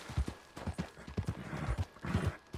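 Horse hooves clip-clop in a steady galloping rhythm across open ground in Red Dead Redemption 2, close and moderately loud, with a brief whinny-like rise near the end.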